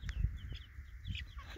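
Chickens and young roosters from two older broods in a backyard flock, clucking softly and repeatedly at close range, with a few brief higher calls over a low ambient hum.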